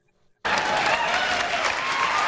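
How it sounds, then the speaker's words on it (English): Loud audience applause at a comedy show bursts in abruptly after near silence and continues as a dense, steady wash of clapping. "As the audience applauds, please join me on stage."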